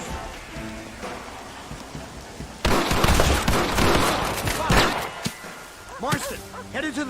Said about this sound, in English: They're coming out! Gun them down!